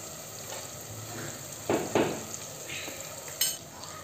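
Fennel seeds, asafoetida and turmeric sauté in hot oil for a soya chunk biryani, giving a soft, even sizzle. A few short spatula scrapes rise above it, two close together and one a little later.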